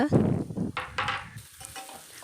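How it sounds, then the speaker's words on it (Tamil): Potato pieces and onion sauté in hot oil, with a brief burst of sizzling and scraping stirs close up, then a quieter simmering crackle. "உருளைக்கிழங்கை சேர்த்து அந்த எண்ணெயிலேயே நல்லா வதக்கி விடுங்க"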